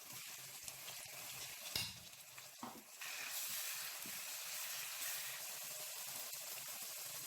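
Pepper sizzles in melted palm oil with onion in a pot for a Nigerian vegetable soup, a steady broad frying hiss that swells louder partway through, with a few faint clinks.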